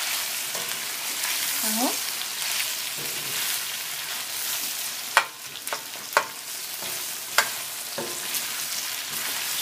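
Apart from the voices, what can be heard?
onions frying and being stirred in a pan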